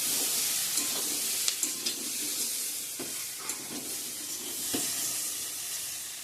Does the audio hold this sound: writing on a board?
no